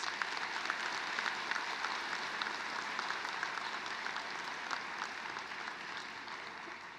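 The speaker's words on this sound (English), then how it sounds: "Could we give them one more round of applause, please?" Quiet, steady applause from an audience at a university presidential inauguration, honoring student performers, a soft continuous wash of clapping heard from a distance with no voices.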